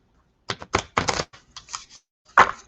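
Oracle cards riffle and snap in several quick, crisp bursts close to the microphone, with short pauses between them.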